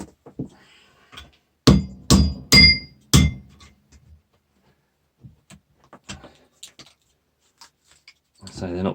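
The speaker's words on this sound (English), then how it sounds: "Let's give it a little smack with a hammer." A hammer smacks a disposable vape to break it apart: four sharp, loud metallic blows in quick succession, then a few faint taps and scattered speech.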